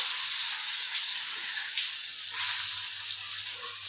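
Tomato frying with oil and cumin in a pan gives a steady, loud hiss and sizzle that runs without a break, close up and with no talking.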